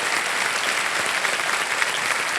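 Steady, dense applause from a television quiz show studio audience, loud and continuous throughout with no pauses and no voices over it.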